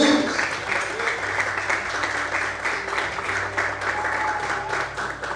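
Crowd applause from a church congregation during a morning service, steady dense clapping that carries on evenly from start to finish, with some voices faintly mixed in.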